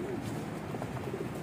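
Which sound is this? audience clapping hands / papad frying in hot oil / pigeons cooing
pigeons cooing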